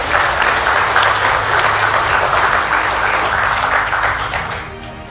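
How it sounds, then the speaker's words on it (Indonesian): Dense audience applause at an Indonesian political gathering, a steady wash of many hands clapping with no voices over it, fading slightly toward the end. "Tepuk tangan untuk BMI."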